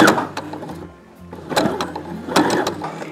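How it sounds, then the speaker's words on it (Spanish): A home sewing machine stitching a pleated cloth face mask, whirring in short mechanical bursts separated by brief pauses, fairly quiet and close with no speech. "Nada más los bajo y sigo cosiendo"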